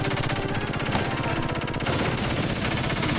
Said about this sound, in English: One of the battleships just blew up.